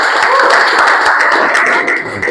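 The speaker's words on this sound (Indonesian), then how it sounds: "Tepuk tangan dong." Dense applause from a group fills the whole stretch, steady and loud before tapering slightly at the end.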